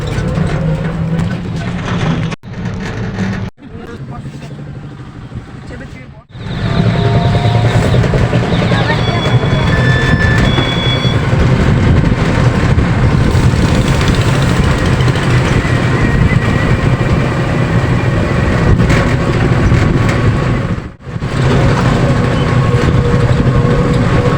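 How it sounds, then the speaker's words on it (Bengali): Riding an electric rickshaw (toto) toward a railway station: a loud, steady rumble of road and vehicle noise fills most of the stretch, with brief quieter dips at the start and near the end. "আর টোটোয় করে এই যে যাচ্ছি স্টেশন থেকে ট্রেন ধরবো"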